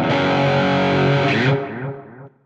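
Heavily distorted electric guitar chords through a NUX Trident modeller's high-gain amp preset, thick and saturated, sustaining loudly before decaying away.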